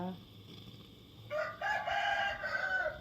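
A rooster crows loudly, its long drawn-out call rising partway through after a quieter stretch of background noise.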